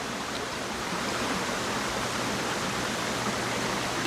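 Creek water flows steadily along Collins Creek Trail in Heber Springs, a continuous broadband rush with no breaks, close and moderately loud, with no voices over it.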